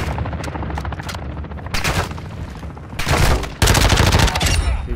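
Video game raid firefight: bursts of automatic gunfire and scattered single shots crackle in irregular volleys, growing louder and denser toward the end, with sustained fusillades filling the last seconds.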